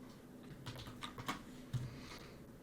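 Short bursts of keystrokes on a computer keyboard, a few quiet close clicks clustered in quick succession with brief pauses between, heard alone in a quiet room.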